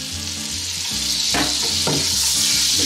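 Butter and oil sizzle loudly in a pan as the base for a Louisiana seafood gumbo roux, a steady close hiss with a low hum beneath and a couple of brief stirring scrapes.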